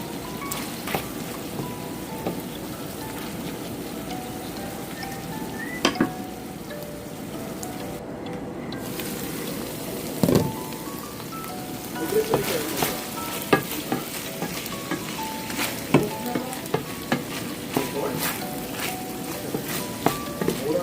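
Pork liver fries in a pan for menudo, a continuous soft sizzle broken by scraping clicks and knocks of stirring, close and fairly quiet, with no talking.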